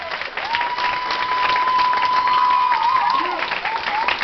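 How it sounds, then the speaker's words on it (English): Wedding guests applaud the couple with a thick burst of clapping, while a long, high sustained whistle rises above the crowd and a few voices are heard faintly underneath. "Round of applause again, ladies and gentlemen, for Jenna and Karan."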